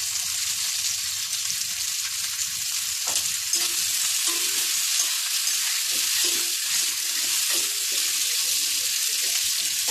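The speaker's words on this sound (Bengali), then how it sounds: "এটাকে একটু ভাজা ভাজা করতে হবে।" Green chillies, potato and onion fry in a pan, a steady bright sizzle filling the whole stretch, with occasional scraping stirs and light clanks of a utensil against the pan, no voices.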